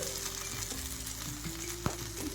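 Dosa batter sizzling on a hot pan, a steady close frying hiss with a soft tap partway through.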